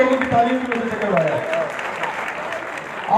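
Clapping from a crowd at a prize-giving ceremony in Lahore runs under someone speaking loudly over it, the applause moderate and steady throughout.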